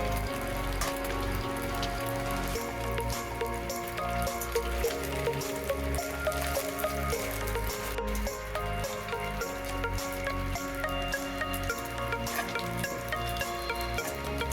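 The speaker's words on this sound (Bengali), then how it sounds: "মোরলা মাছ ভাজতে একটু টাইম লাগে" Small mourala fish frying in oil give a dense, continuous rain-like crackle and spatter. It holds steady and fairly loud throughout, with faint tonal background sounds and no speech.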